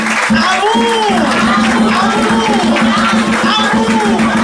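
Applause and cheering from a congregation during a Sunday church service, a steady dense wash of clapping with voices calling out over it throughout.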